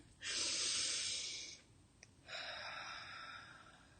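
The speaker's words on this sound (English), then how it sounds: "Let's do a breathing exercise." Slow, deliberate breaths in a relaxation breathing exercise, one long airy inhale followed by a pause and a long hissing exhale, close to the microphone and quiet.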